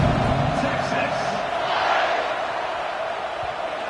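Dense stadium crowd roaring and cheering in an NCAA college football video game, a steady loud wash of voices filling the whole span without letting up.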